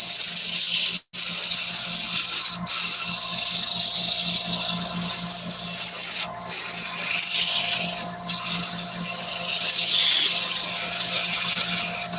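Sandpaper of 240 grit is held to the edges of a wooden bowl spinning on a lathe, giving a steady, close, hissing rub over the motor hum that runs the whole time with only brief breaks.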